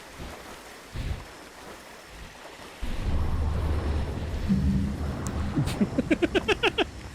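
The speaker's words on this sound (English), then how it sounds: "Your water bottle made a noise." A water bottle gives a sudden, close rumbling gurgle that swells, then ends in a quick run of evenly spaced bubbling pulses.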